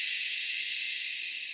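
A voice imitates the wood healing sound with one steady, breathy hiss, held evenly and fairly quiet for a moment with nothing else behind it.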